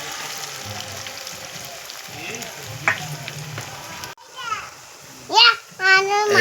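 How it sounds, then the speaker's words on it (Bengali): Small vegetable pakoras deep-fry in hot oil, giving a steady close sizzle for about four seconds, then a shift to a quieter bubbling with brief high chirping sounds and a voice nearby. "একদম ছোট্ট ছোট্ট করে পকোড়াগুলো ভেজে নিচ্ছি।"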